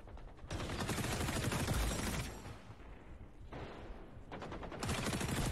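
Sustained automatic gunfire in the shooter game XDefiant, dense fast bursts of shots with short pauses between volleys, quiet overall but continuous throughout.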